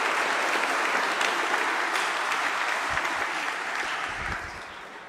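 Church congregation at a Mass for the Feast of the Holy Family applauds, a dense sustained burst of clapping filling the space that gradually tapers off toward the end.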